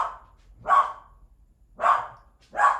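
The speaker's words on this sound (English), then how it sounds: "now she's barking" A dog barks three times with uneven pauses between, sharp single barks fairly close in an otherwise quiet space.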